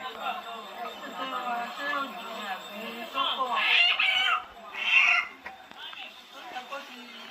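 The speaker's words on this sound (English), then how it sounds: "They got a couple of chickens." Several chickens cluck and call nearby at the Osun Festival while people talk loudly over them, with a couple of sharper squawks in the middle.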